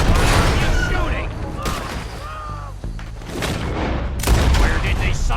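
Gunfire in the Western video game Red Dead Redemption 2: a dense, loud barrage of shots and booms over game music, with a voice shouting over the battle.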